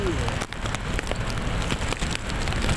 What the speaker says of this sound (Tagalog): Dito tayo, malakas ang ulan.